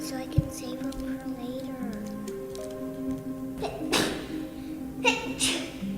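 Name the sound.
child sneezing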